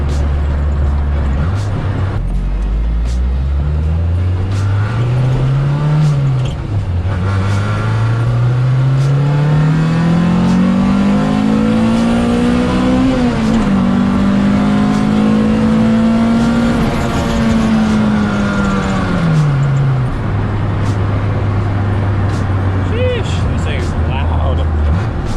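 A B18-swapped Honda EG Civic with a stock muffler pulls hard from inside the cabin, its engine note climbing loud and close, dropping at a gear change around seven seconds, then rising steadily to a howl before easing off.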